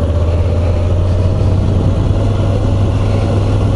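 A new 2022 Moto Guzzi V85 TT motorcycle, only 50 km on it, with its engine running in a steady low, throbbing drone up close, even and unbroken, with no voices.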